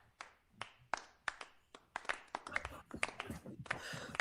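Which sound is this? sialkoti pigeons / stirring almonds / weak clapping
weak clapping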